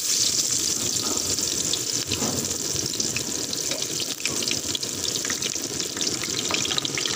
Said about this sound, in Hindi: ऑयल हमारा गर्म हो चुका है। अब इसमें शामिल करेंगे प्याज